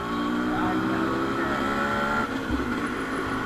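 Modified Yamaha RX100 two-stroke motorcycle engine droning steadily while riding, a close, loud continuous buzz with slight shifts in pitch.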